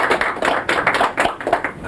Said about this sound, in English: I think, though, that Dr. Krause ought to be applauded for calling this meeting to order.